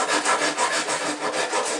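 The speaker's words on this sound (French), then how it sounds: "Je pourrais ensuite, après, limer." Wood on a small toy boat model is rasped with a hand file in quick, rhythmic back-and-forth strokes, close and fairly soft, about eight strokes in under two seconds.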